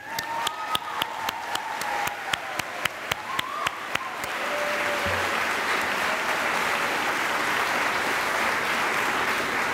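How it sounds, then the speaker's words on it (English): At a university public policy hooding ceremony, a few separate hand claps quickly grow into full, sustained applause from a large seated audience, loud and steady to the end. "they all deserve a round of applause as well."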